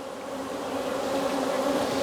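A dense, steady drone of many bees buzzing close by, continuous and fairly loud with no voices.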